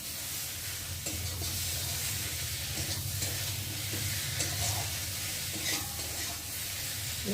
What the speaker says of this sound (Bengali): মশলাটা এখন ভালো করে কষিয়ে নেব